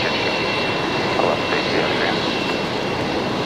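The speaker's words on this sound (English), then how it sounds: "It's a 321 Neo arriving back from Auckland." Jetstar Airbus A321neo jet arriving back from Auckland at Brisbane Airport, a steady broadband engine roar holding constant throughout, fairly close and loud, with no distinct voices.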